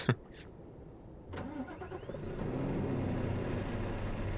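A Scania S520 truck in Euro Truck Simulator 2 starts up after a couple of clicks, its engine cranking and then settling into a steady, deep, close idle.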